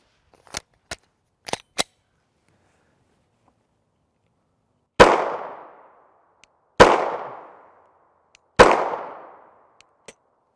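A 9mm pistol fires CBC 115gr FMJ rounds: three loud, sharp, close reports spaced about two seconds apart, each ringing out briefly. Several small mechanical clicks come before them, and one faint click follows.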